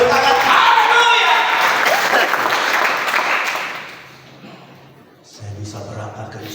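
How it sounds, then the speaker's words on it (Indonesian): Church congregation clapping loudly and continuously during a sermon, a dense close wash of applause that fades out, then a voice speaks over a low background. "Kita berikan tepuk tangan, haleluya."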